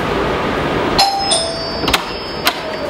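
A doorbell chimes a few bright, ringing tones over a constant background hum, followed by a couple of short knocking clicks.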